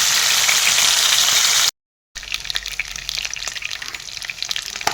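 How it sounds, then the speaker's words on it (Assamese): Fish sizzles and crackles in a pan of hot oil with a steady, close hiss, briefly cut by a moment of silence before the frying noise resumes at a softer level. "এতিয়া দেখিছেনে মাছখিনি ইয়াত ফ্ৰাই হৈ গ'ল"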